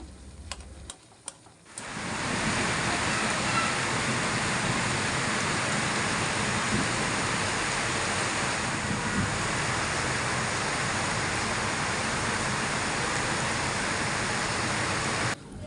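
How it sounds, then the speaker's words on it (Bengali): Heavy monsoon-style rain pours outside as a steady, dense hiss that fills the space after a brief quieter start marked by a few clicks. "বাহিরে একেবারে মুসলধারে বৃষ্টি হচ্ছে"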